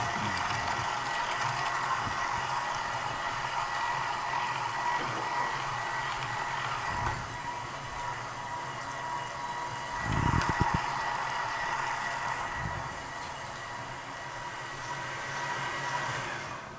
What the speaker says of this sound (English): Speed 4 is the correct speed to grind the meat.